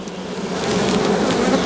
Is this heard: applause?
no